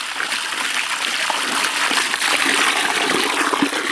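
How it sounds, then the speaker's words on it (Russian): Water pours steadily from a hose into buckets holding urea and wood ash fertilizer, a loud, continuous splashing rush that runs the whole time with no talk. "Мы заливаем удобрение водой, специально разливая сначала малые нормы воды сразу по всем ведрам"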